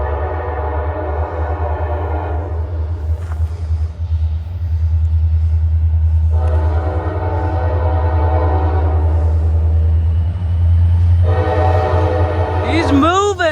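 Two CSX locomotives running light with no freight cars on the Grand Rapids subdivision sound a loud air horn in three long blasts over a deep steady engine rumble, passing close by, with a brief squeal near the end.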